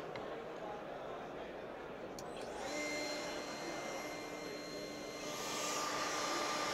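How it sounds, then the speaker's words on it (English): An Edge Finisher EF-200 edge-finishing machine runs as a part edge is fed through it. A steady, loud whirring drone grows denser partway through as thin whining tones join in and hold to the end. "do a quick demonstration on how the part goes through the machine"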